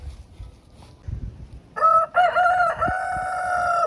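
A rooster crows loudly and close, a long drawn-out cock-a-doodle-doo following a few faint rustles and clucks.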